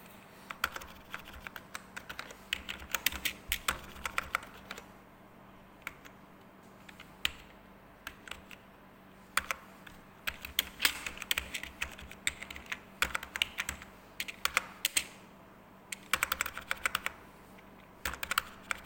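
Computer keyboard typing in irregular bursts of close, crisp clicks and clacks, with brief pauses between runs, over a low steady hum.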